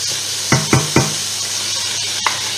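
A pot of liquid for veal paupiettes and vegetables comes back to a boil with a constant bubbling hiss. A few sharp knocks of a utensil against the pot cut through, and no one speaks.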